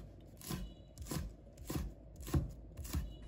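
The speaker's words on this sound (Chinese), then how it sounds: "准备几个小米辣，把它切成小圈" A knife chops small chili peppers into rings on a cutting board, about six distinct, evenly spaced knocks, close and moderately soft.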